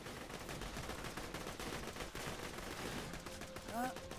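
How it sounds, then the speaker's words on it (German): Rapid automatic fire from a Fladoff machine gun in the video game Borderlands 2, a dense continuous rattle of shots filling the clip, with game effects and background sound mixed in. "Nichts cooleres als Fladoff-Maschinengewehre. Die schießen einfach so unglaublich schnell."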